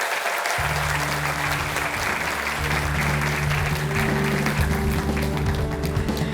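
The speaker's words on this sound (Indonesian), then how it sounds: "Ini tepuk tangannya harus meriah ya teman-teman semua ya." Studio audience at an Indonesian talk show applauding a law professor's arrival, a loud, dense round of clapping that stays sustained and even from start to finish, with a low steady hum underneath.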